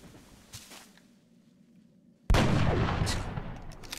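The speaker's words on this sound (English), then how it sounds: "Let's do a critical shot." A loud gunshot blast from a critical shot in the video game XCOM: Enemy Within erupts suddenly after a quiet stretch of low game ambience, followed by a sustained roar of echo and debris noise.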